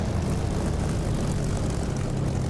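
Spitfire piston engine roaring at takeoff power in the DCS flight simulator, a steady loud drone with a low propeller throb filling the whole stretch, no voices.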